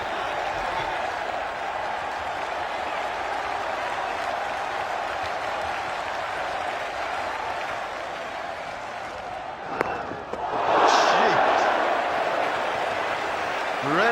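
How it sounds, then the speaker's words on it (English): A large cricket crowd at an Australia versus England test match keeps up a steady roar and applause, swelling louder near the end, with commentators talking over it. "The roar from the crowd was not the only roar we've had"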